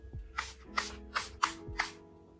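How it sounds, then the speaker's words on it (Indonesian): Hair fragrance spritzed onto hair at home, about five short, soft spray bursts in a fairly even rhythm, close and fairly quiet. "Caranya tuh kayak gini, tinggal semprot secukupnya aja."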